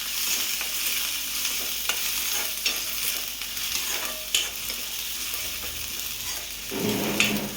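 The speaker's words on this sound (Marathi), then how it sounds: "कांदा चांगला खरपूस होईपर्यंत परतवून घ्यायचा।" Onions sautéing until browned, a busy steady sizzle with frequent stirring scrapes and spoon clicks against the pan, close-up, with a louder burst of frying toward the end.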